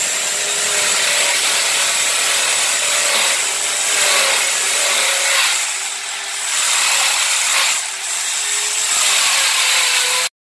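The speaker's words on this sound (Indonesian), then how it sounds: "Semuanya kayu bener-bener dibor, jadi dipastikan bisa lebih kuat." A power drill bores into wood for a wall makeover, a loud continuous grinding whine that swells and dips in several pushes, alone without talk.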